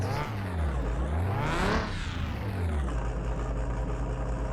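An Alfa Romeo salvage car engine running just after being started with fluids topped up and sounding rough, a loud close idle that revs up and falls back before settling into a steady hum.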